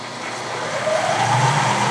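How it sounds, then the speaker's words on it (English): A rotary phase converter runs with a steady, loud mechanical hum and broadband whir. A Clausing milling machine switches on partway through, and a rising whine builds as its motor spins up. "the rotary phase converter is running. I think you can hear it."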